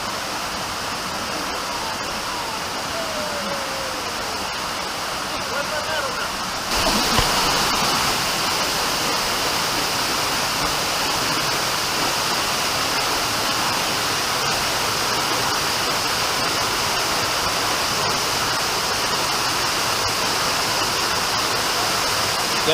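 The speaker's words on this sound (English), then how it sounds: "But just the way how the waterfall cascades off the rocks" A waterfall at Bucay, Ecuador cascades off rocks in a steady, broad rushing roar that swells slightly louder partway through, with faint birdsong near the start.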